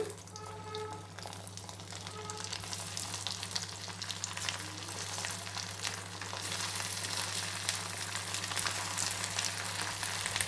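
Colocasia (chamagadda) pieces fry in oil on a high flame, a dense steady sizzle with crackling that grows louder and fuller, over a constant low stove hum.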